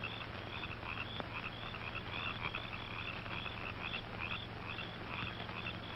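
Frogs croak steadily in a dense, continuous chorus with insect-like chirping on top, heard alone without speech throughout, as in an old black-and-white horror film night scene.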